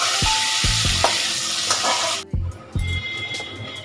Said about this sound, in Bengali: আমি একটু সর্ষে, শুকনো লঙ্কা ছিঁড়ে দিয়ে দিলাম আর একটু আমি হিং দিয়ে দিলাম।